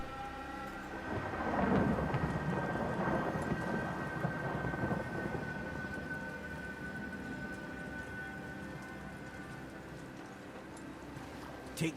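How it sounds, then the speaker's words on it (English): A thunderstorm in God of War (2018) rumbles with deep rolling thunder over steady rain, swelling early and then settling into a constant wash of sound. "Is this storm the doing of Odin or Thor coming?"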